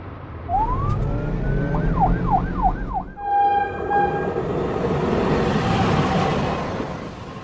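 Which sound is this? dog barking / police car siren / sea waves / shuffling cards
police car siren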